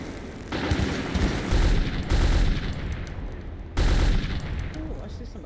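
Gunfire in the video game Metro 2033, dense bursts of automatic shooting with heavy booming blasts that swell and drop across the stretch, loud and close.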